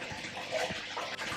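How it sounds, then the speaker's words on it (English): Water pours into a fish container for a backyard pond, a soft continuous splashing and trickle that stays close and fairly quiet throughout. "Put some water in here."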